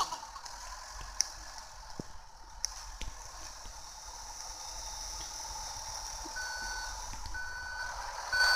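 A red truck drives in a video game, its reversing alarm beeping steadily over a low engine drone, with scattered clicks and an occasional thump, mostly without speech.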